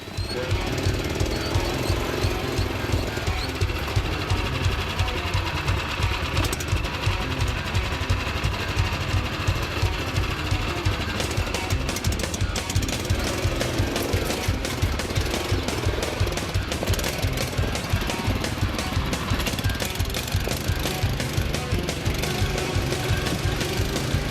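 A Rokon off-road motorcycle engine chugs along a rough trail route, a loud, steady, rapid single-cylinder thumping that runs unbroken throughout, heard close with wind and rattle noise on top.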